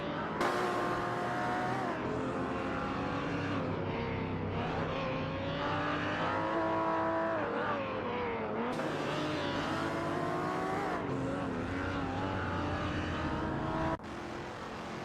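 AI supercars race around Weatherfield Speedway in a racing game, engines loud and continuous with gear shifts, rising and falling pitch, and cars sweeping past.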